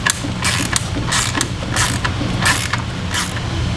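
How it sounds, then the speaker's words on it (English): A ratchet wrench with an 8mm socket backs out a factory blow-off valve on a stock intercooler, giving repeated loud metallic clicking bursts in an even rhythm over a steady mechanical hum. "So it's an 8mm socket."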